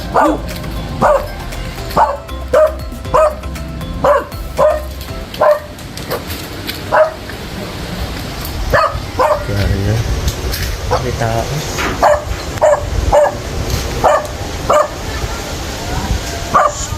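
A dog barks repeatedly in a steady series of sharp, loud woofs nearby, pausing briefly before barking again, with people talking in between.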